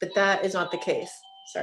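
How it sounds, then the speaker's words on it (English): A doorbell chimes indoors in a home, a single sustained two-tone ring that follows a person speaking and stands briefly on its own. "I think that's my doorbell."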